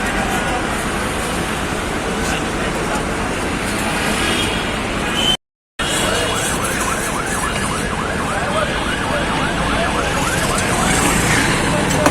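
Fire service vehicles arriving at a building fire beside the Babubazar bridge in Dhaka, a wailing siren sweeping up and down over loud continuous traffic and crowd noise, with a brief dropout midway.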